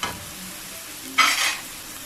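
Oil sizzles in a pan while burong isda fries, a soft steady hiss with a short louder burst of sizzling and stirring near the middle, heard alone.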